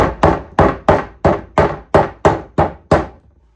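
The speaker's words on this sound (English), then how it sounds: "grab a hammer and tap those in" Nine sharp hammer taps drive staples into wood at an even, brisk pace, loud and close, each with a short woody ring.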